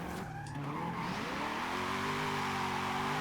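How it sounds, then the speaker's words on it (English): A budget drift car doing a burnout in Forza Horizon 5: a high engine rev holds steady under continuous tire squeal, loud and close, after a short rise at the start. "You can even do a fat burnout with it as well."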